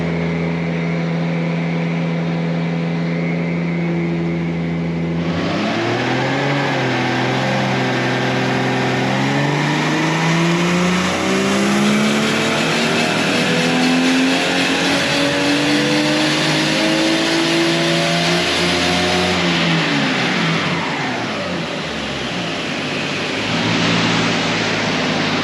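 A loud Toyota JZX100 turbocharged engine running E85 idles, then revs hard and climbs steadily in pitch for many seconds before dropping off, with a rushing turbo and wastegate hiss throughout.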